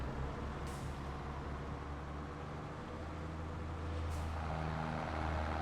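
A snow-clearing truck engine in Farming Simulator 22 drones steadily at a low pitch, with two short hissing bursts of air breaking through.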